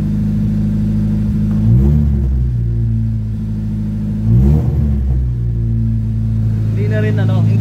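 1992 Honda EG engine idling near 1,500 rpm while warming up after an ECU repair, a loud close steady hum with two brief swells, and a voice talking over it.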